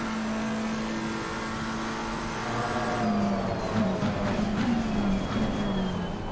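Race car engines roar in a racing video game at the Circuit of the Americas, a loud steady drone with pitch sweeping as a McLaren and nearby cars shift and accelerate.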